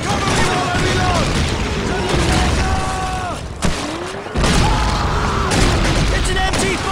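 MG42 machine gun fire in Call of Duty 2, dense rattling bursts mixed into a loud, constant battlefield din of explosions and gunfire, with shouted voices over the top.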